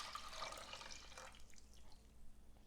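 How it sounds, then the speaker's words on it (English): Vinegar and water brine being poured into a pot while quick-pickling carrots, turnips and red onion, a soft splashing pour for about a second before it tapers to quiet. "I'm just going to pour in my brine solution,"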